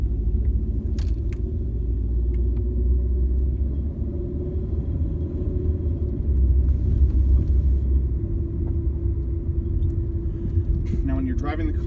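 A used car pulling away on a test drive, its engine and road rumble holding a steady low drone throughout, with someone talking over it and a few light clicks.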